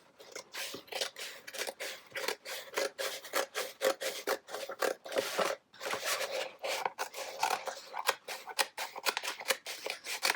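Stencil vinyl film is scraped and trimmed on a cutting mat, giving rapid, rhythmic rasping strokes that repeat closely for ten seconds with brief gaps.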